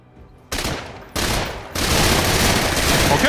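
Video game SMG fire, a loud, fast-rate burst that cuts in abruptly, stops, then resumes in a longer continuous stream, after a brief quieter lead-in.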